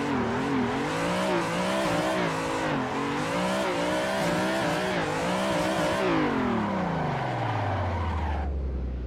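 Assetto Corsa car drifting under e-brake on a Logitech G920 wheel: a loud engine revs and wavers steadily with tire squeal, then drops away in a long falling whine as the car slows.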